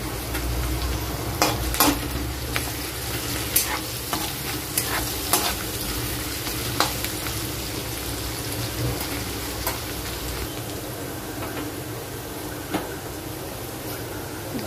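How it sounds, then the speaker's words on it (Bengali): Chopped onion, garlic and ginger fry in a pan while a spatula scrapes and clinks through them in irregular strokes, over a steady, close sizzle with no talking. "পেঁয়াজটাকে লাল করে ভেজে নেব"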